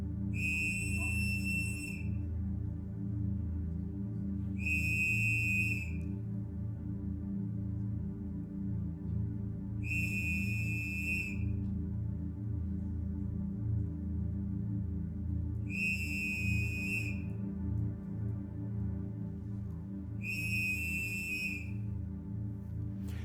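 Five shrill whistle blasts, each about two seconds long, sound at even intervals over a low, constant background rumble.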